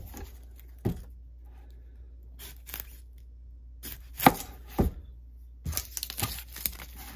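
A MenWithThePot cleaver chops into an onion in uneven bursts, with a few isolated strikes and then a quicker cluster of cuts, close and crisp against quiet.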